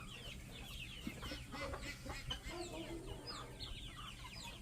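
Chickens clucking on a homestead with many birds, a steady busy layer of clucks and calls close by, with occasional louder squawks.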